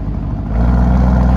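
A 2021 Lamborghini Urus engine and exhaust in Corsa mode, a low close rumble that steps up into a louder, steady rev about halfway through.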